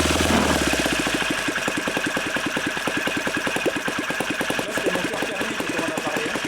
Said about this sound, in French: il a démarré au ralenti à 1300 tours